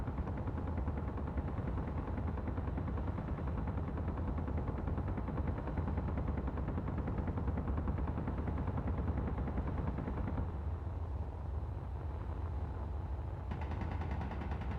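Turret gunfire in the video game Space Engineers, a dense unbroken rattle of rapid automatic shots that runs loud and steady throughout, with no talk.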